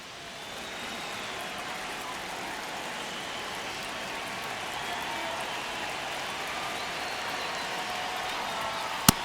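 Virtual stadium crowd from MLB The Show 25, Mets versus Brewers in the ninth inning of a one-run game, forms a steady, dense roar of cheering and murmur that holds throughout, with one brief sharp click near the end.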